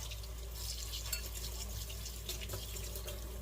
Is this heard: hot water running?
yes